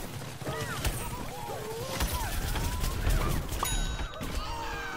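Bean bomb explosions in Plants vs Zombies Garden Warfare 2 burst in a rapid, chaotic string of thuds and crashes, mixed with ringing game effects and chirpy cartoon sound bits, busy and fairly loud throughout.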